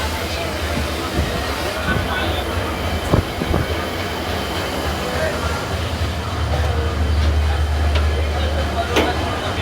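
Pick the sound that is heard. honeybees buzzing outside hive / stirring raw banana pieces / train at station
train at station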